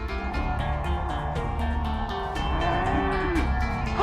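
Cows moo again and again in the video game Milkmaid of the Milky Way, with low drawn-out calls over a steady hum of farm ambience, fairly loud and close and with no talking.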